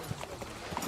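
Horse hooves clip-clopping in a Game of Thrones scene, a soft irregular patter of a few hoof strikes set against a steady background hum.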